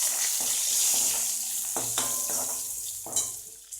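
Mustard seeds, dried red chillies, curry leaves and asafoetida sizzle and crackle in hot oil for avarakkai poriyal, with steady frying hiss, a few sharp pops and stirring scrapes, heard up close.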